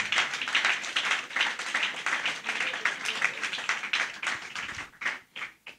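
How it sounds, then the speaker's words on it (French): Audience applause at a gospel talent casting ceremony, moderate clapping that thins into a few scattered claps at the end. "Est-ce qu'on peut applaudir pour lui, s'il vous plaît Winam Golbachev."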